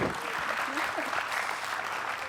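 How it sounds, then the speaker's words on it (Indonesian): Studio audience applause for Mas Jarwo fills a TV talk-show set, a steady dense clapping held at even loudness for the whole stretch with a few faint voices mixed in. "Beri tepuk tangan dong buat Mas Jarwo."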